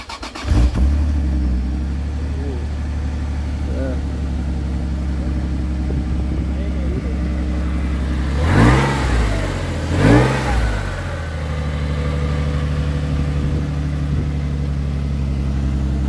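A supercharged 2007 Toyota FJ Cruiser on 40-inch tires idles with a steady, close, loud rumble, then gets revved twice in quick succession before settling back to idle.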